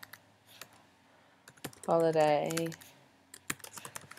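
Soft clicking of computer keyboard keys as text is typed, light irregular taps close by, with a brief spoken word in the middle.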